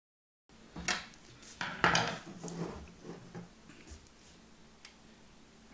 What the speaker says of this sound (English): And then we are going to add in the screws.